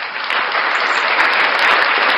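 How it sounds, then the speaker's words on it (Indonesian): Dense, continuous audience applause fills the room, loud and steady with many hands clapping at once, sustained without a break and no talking over it. "Tepuk tangan."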